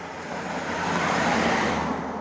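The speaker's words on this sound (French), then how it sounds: "vous voyez, il n'y a pas non plus 10 voitures par minute" A car passes along a rural road on the Camino del Norte toward Santillana del Mar in northern Spain, its tyre and engine roar swelling and then easing off in a steady whoosh, with no voices.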